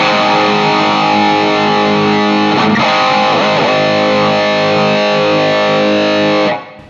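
A heavily distorted electric guitar through a Nux Pulse IR loader using the GZ120 impulse response, modeled on the Jazz Chorus speaker and cabinet, holds sustained chords loudly, with a brief pick scrape midway, ringing until the sound cuts off.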